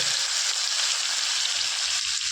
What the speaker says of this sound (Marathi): तेल गरम झालं की आता त्यामध्ये आपण सुरुवातीला अद्रक लसूण व कोथिंबीर पेस्ट टाकून घेणार आहोत